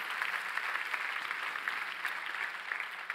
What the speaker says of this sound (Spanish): dale un aplauso bien fuerte al que vive